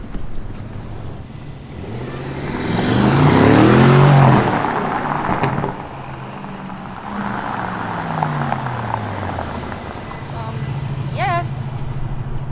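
Aston Martin SUV on a test drive, its engine surging loudly in a rising acceleration pull with strong wind rush, then settling into a steady cruising drone while people talk inside the cabin.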